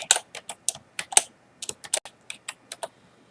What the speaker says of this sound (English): I can just type it in.